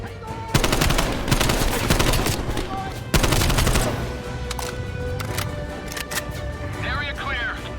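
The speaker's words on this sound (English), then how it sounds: "Who's shooting?" Rapid automatic gunfire in Call of Duty: Black Ops Cold War rattles in loud sustained bursts, pausing briefly before another volley, then fades to scattered distant shots while people talk over it.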